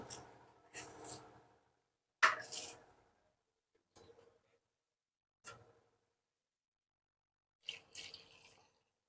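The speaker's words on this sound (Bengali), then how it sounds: "প্রথমে আমরা কুচে মাছটাকে গরম জল দিয়ে ধুয়ে নেব" Cut kuche fish gets rinsed with hot water, heard as a handful of short separate splashes and pours spaced a second or two apart, fairly close but soft, with quiet gaps between them.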